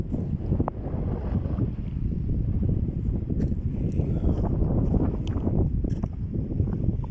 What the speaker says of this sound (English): There is little breeze here. I'm near to the sea.